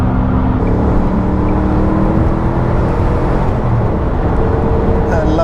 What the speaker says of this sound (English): Lovely little twitterings in the turbos.